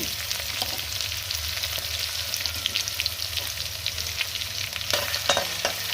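Garlic frying in oil in a pan for a Maharashtrian winter vegetable dish, with a steady, close sizzle and occasional stirring scrapes running throughout without pause.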